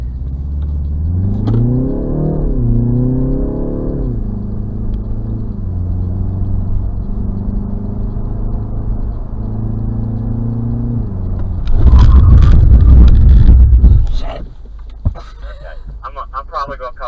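A BMW on a track during a performance-driving braking exercise: the engine climbs steadily in pitch as it accelerates, then a loud, rough burst of hard braking lasting about two seconds, followed by quieter rumbling.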